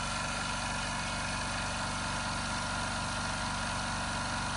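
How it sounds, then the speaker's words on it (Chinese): A small air compressor supplying an autoclave machine for LCD refurbishing hums in a steady, even mechanical drone close by, with no pauses and no talking. "空压机启动，因为这个空压机太小，会启动，可能会停摆一些"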